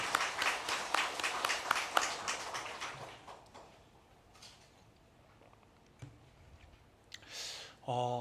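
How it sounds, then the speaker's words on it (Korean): Dense clapping from a church congregation for about three seconds, then dying away into a quiet room with a few faint scattered sounds. "우리 박수로 하나님께 영광 돌리겠습니다"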